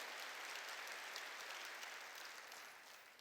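A church congregation applauds together in a steady, sustained round of clapping that holds evenly and then tapers slightly toward the end, with no voices over it.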